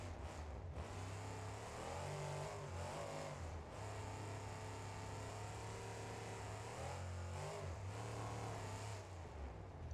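A simulated monster truck engine in the BeamNG.Drive game hums steadily and rises and falls in pitch as it revs and drives, loud and continuous with no voices.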